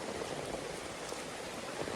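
Steady rain patters softly and evenly, a continuous hiss with no voices.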